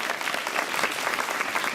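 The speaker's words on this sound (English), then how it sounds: "Nice round of applause." A crowd at a political gala claps in a brief, even burst of applause filling a large hall, with no voices on top.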